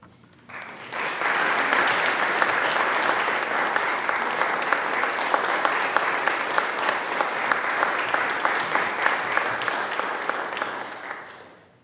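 Sustained applause from an audience at a scholarship awards ceremony, steady clapping that swells in quickly and holds for about ten seconds before tapering off.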